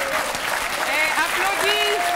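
Studio audience applause on a French TV show, dense clapping continuing under a voice talking over it.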